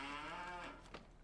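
A single drawn-out cow moo on a farm, close and clear, holding steady before trailing off with a faint rustle at the end.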